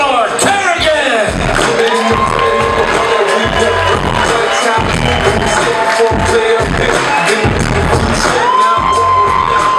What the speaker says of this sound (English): A warm round of applause for Eleanor Kerrigan!